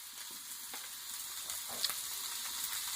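Tomatoes and spices fry in a pan with a pinch of salt, giving a steady, soft close sizzle that crackles continuously for a few seconds with one brief sharper pop.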